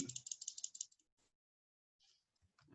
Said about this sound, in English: Typing some of the values.